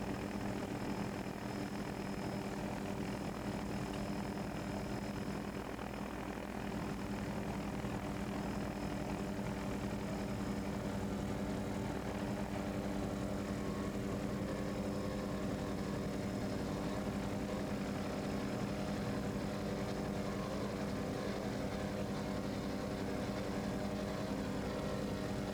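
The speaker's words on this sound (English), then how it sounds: "Outrageous is a 33-foot Suffin with two 550 horsepower Mercruiser engines." Offshore racing powerboat, a 33-foot Suffin with twin 550 horsepower Mercruiser engines, at a 1983 offshore grand prix off Point Pleasant, New Jersey, droning loud and steady throughout with a sustained engine roar and no speech.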